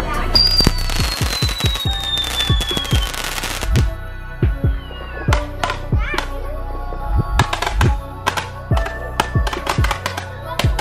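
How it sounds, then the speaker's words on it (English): Fireworks bursting outdoors, a rapid series of sharp cracks and bangs in irregular clusters, loud and close, with a whistling rocket at the start and people talking between the blasts. "The fireworks was lit"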